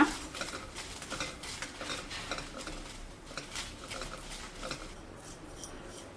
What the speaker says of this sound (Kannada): ಈಗ ಮೆಣಸನ್ನು ಹಾಕಿ ಹುರ್ಕೊಳ್ಳೋಣ.